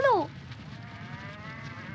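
A buffalo in a jungle scene gives one short, sharp lowing call at the start, then fades into a quiet, low background murmur.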